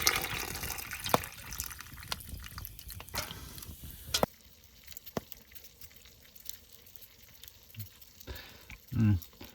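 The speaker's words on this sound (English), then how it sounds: "add a little bit of water to that" In a winter wilderness camp, water is poured into a pot over hot coals: scattered splashes and drips sound near and fairly quiet, broken by a few sharp knocks, with a brief louder rush near the end.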